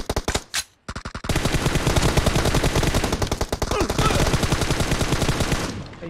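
Sustained automatic fire from an M416 rifle in PUBG Mobile, a few short bursts followed by a long, loud, rapid string of shots that runs for several seconds before cutting off.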